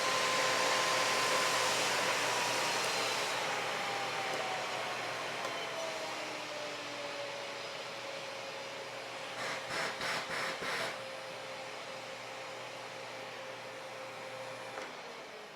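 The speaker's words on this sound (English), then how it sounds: "I wouldn't expect to run vacuums" A vacuum cleaner runs off a portable power station with a loud, steady airy roar and a whining motor tone that slowly drops in pitch, with a few brief rattling bursts near the end.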